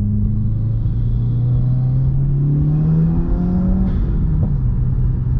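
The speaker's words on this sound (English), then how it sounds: "that sound is just from the intake" A 2017 Subaru WRX with an aftermarket intake revs with a deep, rising intake roar and whir, steady and loud throughout, climbing in pitch before easing back.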